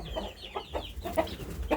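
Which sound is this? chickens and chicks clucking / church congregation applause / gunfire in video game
chickens and chicks clucking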